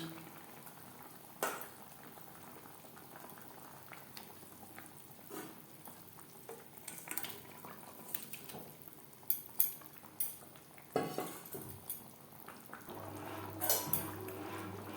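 Fried fish being stirred into simmering curry gravy in a pan, soft bubbling under scattered scrapes and clinks of a spoon, quiet and close, with a few sharper knocks toward the end.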